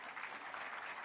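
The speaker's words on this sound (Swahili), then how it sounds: "Tuanga makofi kidogo." A crowd applauds to welcome the President at a formal occasion in Mombasa, a brief, soft burst of steady clapping.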